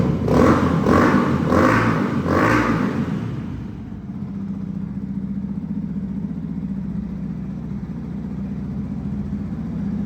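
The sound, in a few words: Yamaha R125 motorcycle exhaust revving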